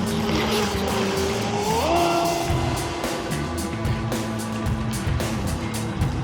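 A Volantex SR80 Pro RC racing boat's electric motor running at high speed, a steady loud whine that sweeps up in pitch as the boat turns, with constant water and wind noise around it.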